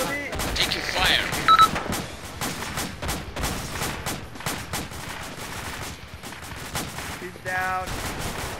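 Gunfire in the military game Arma during a United Operations Battle of Wanat mission: rapid bursts and scattered shots from several weapons, dense and continuous, with voices talking over the firefight and a brief electronic beep.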